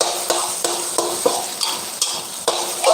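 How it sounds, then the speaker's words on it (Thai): Eggs for pad thai fry in a hot pan at a live home kitchen, a steady loud sizzle with regular stirring scrapes roughly every half second, heard alone without talk. "แค่ไข่ แค่ทอดไข่ก็หอมละ"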